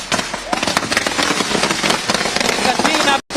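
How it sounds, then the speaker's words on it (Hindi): Dense, rapid crackle of firecrackers set off at an election victory celebration in Mumbai, loud and continuous bursts layered over crowd noise, with a brief drop-out near the end. "पटाखे जो यहाँ छोड़े जाते हैं"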